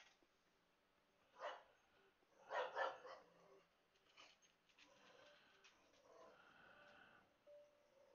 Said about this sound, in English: What are you barking at, Polly?